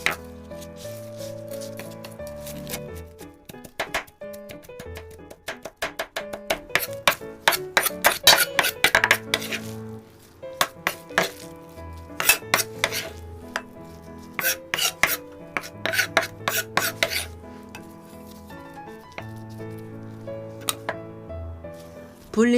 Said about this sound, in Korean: 생새우도 다져주시고요.